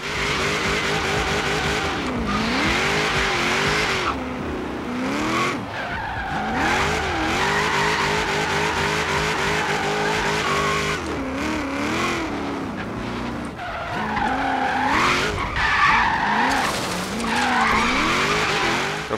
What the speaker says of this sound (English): She is going to slide quite nicely because that's what we've asked for.